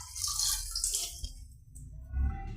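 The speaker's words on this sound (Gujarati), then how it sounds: "હાથું બધું ધોઈ નાખશું પાણીમાં." Hands swishing and splashing in the water of an ancient stepwell beside a temple in Bhadla, with irregular drips and gurgles close by, followed by a soft low thump.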